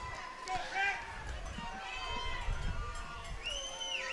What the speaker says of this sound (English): hearty crowd here tonight, making some noise.